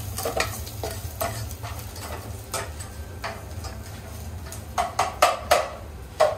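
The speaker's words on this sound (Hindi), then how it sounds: "ये इसमें डाल दिया लहसुन में और मैं इसमें घुमा लेता हूँ ऐसे करके" Garlic sizzles softly in a pan while a utensil stirs and scrapes against the metal in a series of light clinks.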